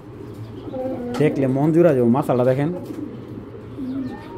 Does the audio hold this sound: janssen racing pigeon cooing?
yes